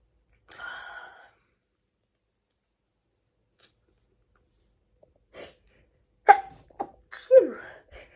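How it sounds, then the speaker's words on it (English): A short fit of stifled sneezes, one muffled burst and then a quick cluster of three or four held-in sneezes with small breaths, close by and alone against silence. "I'm gonna sneeze again."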